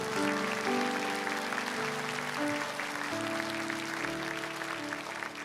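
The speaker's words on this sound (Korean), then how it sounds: "우리 목사님께 감사의 박수 보내드립니다." A church congregation claps for the pastor after a prayer at a Sunday worship service. The applause forms a steady, moderate wash beneath sustained organ or keyboard tones, with no speech.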